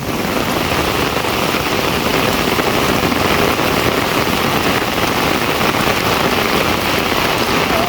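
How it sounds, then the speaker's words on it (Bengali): A constant monsoon downpour in a village drums loudly on nearby surfaces, thick and unbroken rain noise throughout. "তো প্রচুর পরিমাণের বৃষ্টি নামছে"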